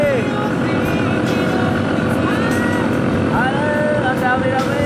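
A motorcycle engine runs loudly and steadily close by on red sand in Saudi Arabia, a constant droning rumble with faint shifts in pitch, while people talk in the background.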